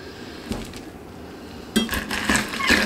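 A whisk clinks and scrapes against a bowl while sugar is mixed into a whipped Caribbean lip scrub base, in quiet taps that grow into a busier rhythmic whisking near the end.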